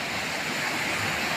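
Rough ocean waves surging during a typhoon, a steady broadband roar of surf and wind noise filling the whole moment without distinct breaks, fairly close and loud.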